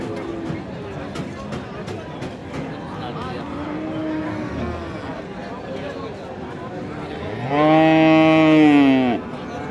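Cattle at a rural livestock market where Friesian and cross-bred bulls and calves are sold, with one loud, close moo lasting about two seconds near the end, over a steady murmur of crowd and traders talking.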